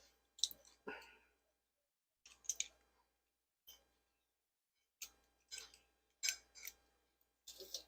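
Four garlic cloves are squeezed through a garlic press, giving a series of sharp metallic clicks and crunching squeezes in irregular bursts, close and fairly quiet with pauses between.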